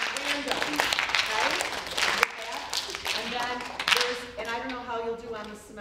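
Community choir clapping randomly to imitate a rainstorm, a scattered crackle of claps with a voice talking over it throughout.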